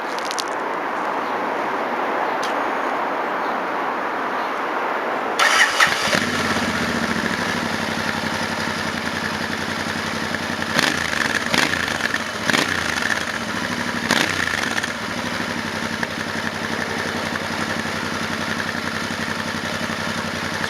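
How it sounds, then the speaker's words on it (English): A 2019 Royal Enfield 650 motorcycle with standard exhaust fires up after a quiet pause, then settles into a steady, close idle with a few brief throttle blips. "So I'll fire it up for you. Actually, the exhaust, for standard exhaust, sound really good."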